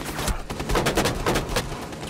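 Dense gunfire in Rainbow Six Siege, with several sharp, close shots cracking in quick succession over a short, busy stretch of play.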